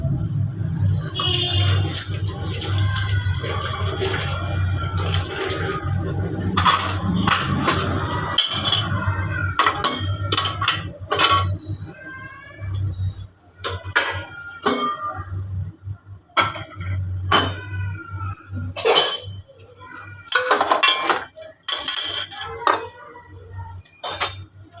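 Dishes are washed under a running tap in a home kitchen, with a steady water rush at first, then intermittent clinks and clatters as the utensils are set down.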